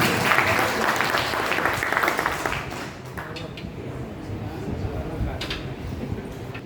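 A crowd claps loudly and continuously, the applause thinning slightly partway through but carrying on to the end.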